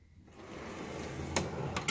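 A Snap-on toolbox drawer slides open with a short metallic rumble and a couple of light clicks, close and quiet.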